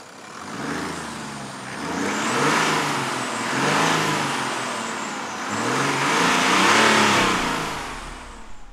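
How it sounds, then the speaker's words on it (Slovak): A Jaguar F-Pace D300 with a diesel six-cylinder engine rises and falls through several rev swells, a gruff mid-range drone building and easing back over about nine seconds, heard close with no talk. "naštartujete dieselový 6-valec, zadrnčí to, zatrasie to autom"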